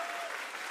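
A crowd at Bob's Bar claps steadily for the volunteer crew at a band competition, a dense, even wash of applause.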